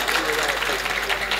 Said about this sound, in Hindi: पूरा सदन ताली से आशीर्वाद दे